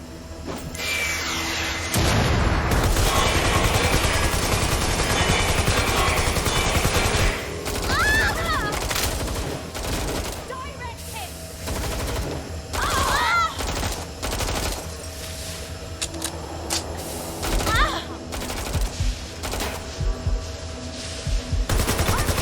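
Sustained automatic gunfire bursts in the video game Watch Dogs Legion, loud dense fusillades with booms, then intermittent shorter volleys and single shots, with spoken game dialogue in between.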